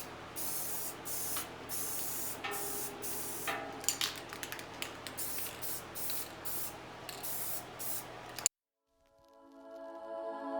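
Short bursts of aerosol spray paint hiss over furniture in a light first coat, repeated close spurts with brief gaps, then the spraying stops and falls quiet.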